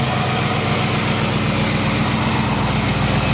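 A 1950 Ford shoebox with a 350 crate motor, Hedman headers and an Edelbrock carburetor idles steadily, a loud, even low rumble heard close up with no talking.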